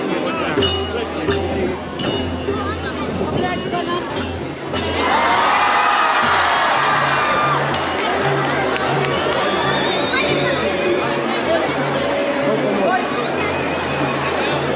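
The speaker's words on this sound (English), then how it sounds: "Look at this crowd." Dense festival crowd at Coconut Jatra, loud cheering and shouting with children's voices and clinking, a constant roar that swells into a bright, sustained cheer midway, with nearby talk throughout.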